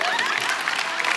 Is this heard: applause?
yes